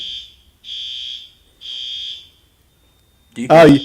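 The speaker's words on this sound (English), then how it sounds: "Sounds like you have a fire alarm going on." Three loud, evenly spaced electronic fire alarm beeps, followed by a short burst of voice at the end.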